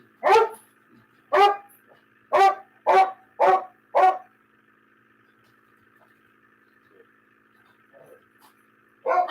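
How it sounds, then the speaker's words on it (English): Dogs bark sharply, with six loud, evenly spaced barks in quick succession. A long quiet stretch follows, then one more bark at the end. "Stop barking."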